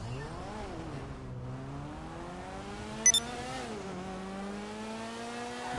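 A car engine in GTA Online revs steadily and loudly, its pitch rising and falling through gear changes, with a short sharp click partway through and no talk.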